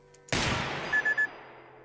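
A single loud, sharp gunshot from the shooting game Receiver 2 cracks nearby and rings out in a long decaying tail, followed by three quick faint electronic beeps.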